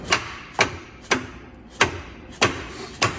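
Six sharp hammer strikes on metal during Jeep Wrangler JK frame stretch work land at a slow, fairly even pace, each a crisp ringing hit close by with short decay between blows.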